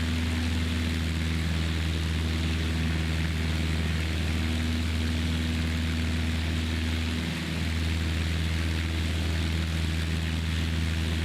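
Steady, loud propeller-airplane engine drone of a Cessna in cruise flight, heard continuously from inside the cabin with a constant low hum and no voices.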